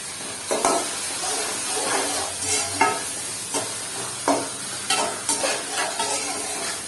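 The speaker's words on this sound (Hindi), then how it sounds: "इसको हमने मसाले को भूनना है अच्छी तरह" Spices and tomatoes for a bhindi salan fry hard in the pan, a loud, continuous sizzle punctuated every second or so by sharp scraping stirs of a spoon, with no voices.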